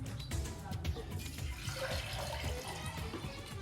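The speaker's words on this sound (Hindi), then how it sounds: "तो उस हिसाब से हम पानी डालते हैं" Water pours into a cooking pot for making macaroni, a steady, fairly faint splashing stream running throughout in a home kitchen.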